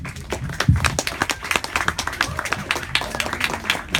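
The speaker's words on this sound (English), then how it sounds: "Please give her a round of applause." Scattered applause from a small audience at a literary reading, a thin patchwork of individual claps with uneven rhythm and a few louder close claps, steady for a few seconds.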